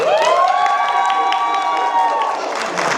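Audience at a Colorado education conference talk clapping and cheering loudly in a sustained burst, a dense roar of applause with a high whistle-like tone running through it, fading slightly at the end.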